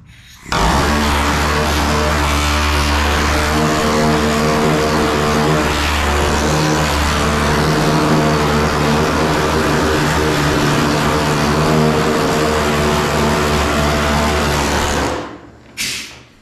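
A homemade handheld planishing hammer working sheet metal backed by a flat dolly gives a loud, continuous, buzzing rattle of rapid strikes that runs for about fifteen seconds before stopping abruptly, followed by a brief burst.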